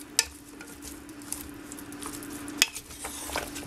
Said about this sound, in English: We'll stir this in.